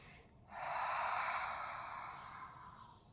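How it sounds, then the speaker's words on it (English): Soft, steady Ujjayi yogic breath drawn through a constricted throat during a guided meditation, one long breathy hiss that rises and slowly fades, quiet and close with no talking. "Softly. Gently, you can breathe Ujjayi breath,"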